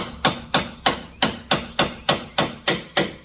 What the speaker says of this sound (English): take a flathead screwdriver or a wedge, and you put it in this little groove, and that's going to provide enough of a spacer as I hit it with a hammer.